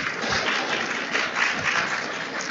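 An audience at a community panel event applauds the panelists, a steady wash of clapping that holds at an even level throughout without speech.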